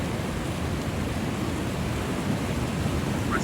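Ocean waves wash onto a sandy surf beach with the tide coming in, a continuous broad rushing hiss of surf and wind, close and steady with no talking.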